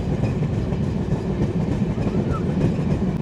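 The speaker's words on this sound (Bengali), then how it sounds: "আর এখন আমাদের ট্রেন এন্ট্রি করছে মুকসুদপুর।" A passenger train on the Kolkata to Dhaka line rumbles steadily as it pulls into Muksudpur station, heard from inside as a continuous low roar with faint rhythmic rattling.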